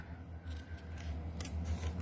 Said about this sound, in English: we're going to trim our zipper.